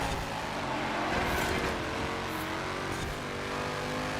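A Rover SD1 Vitesse driven in the racing game Forza Horizon 4, its engine droning loudly and continuously as it runs at speed, with a steady roar and no talk.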